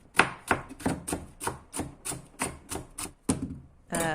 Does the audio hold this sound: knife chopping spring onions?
yes